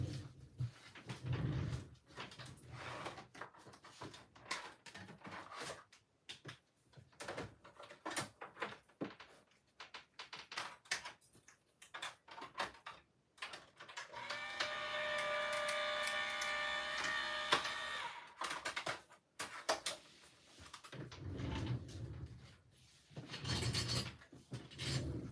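A crafting machine hums steadily for about four seconds as vellum in an embossing folder feeds through it, with quieter handling clatter before and after.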